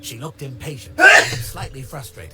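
A single sharp sneeze from a character in the video game Tangle Tower bursts out in the middle, with a calm spoken voice talking before and after it.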